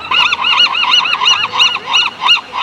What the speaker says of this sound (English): Noisy buggers, them birds, aren't they? How noisy.